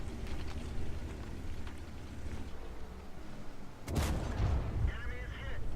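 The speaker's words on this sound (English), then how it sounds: "Nice easy shot into his turret roof." A tank cannon firing in World of Tanks, a single loud broadband blast around the four-second mark over steady rumbling battle ambience, with a brief crackle and decay after it.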